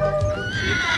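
A Las Cajanas horse from Chile gives a loud, close whinny lasting the full second, with faint hoof clip-clop beneath.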